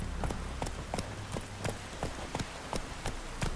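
Hooves of Roach, a video game horse, strike in a steady rhythmic clip-clop, about three beats per second, over a constant hiss that sounds like rain.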